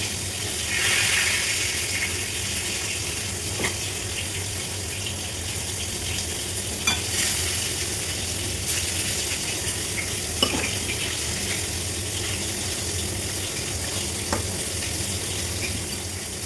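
Dried, salted hasa-hasa fish frying in a covered pan, giving a steady broadband sizzle that hisses continuously at close range, with a few faint clicks and taps from utensils or the lid scattered through it.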